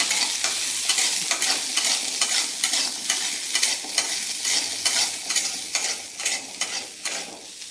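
Onions sauté in sesame oil under a bright, steady sizzle, with a spatula scraping and stirring in an even rhythm, close and loud for the whole stretch.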